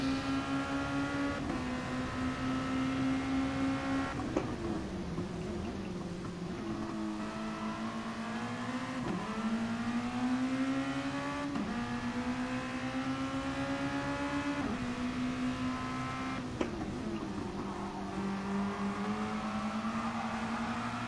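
A race car engine drones steadily as it brakes and accelerates through a corner, its pitch dropping on each lift and climbing again with a series of gear changes, loud and continuous with no talk.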